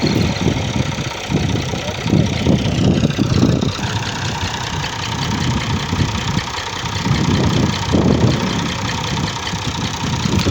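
A tractor engine idling in a Punjab village, a steady mid-to-low mechanical rumble with soft rising and falling pulses throughout, close and continuous, with no speech.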